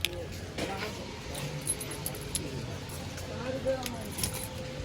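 Car keys jangle and clink in short bursts close by, faint, with some background noise and no clear talking.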